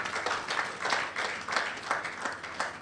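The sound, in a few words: audience applause for winning schools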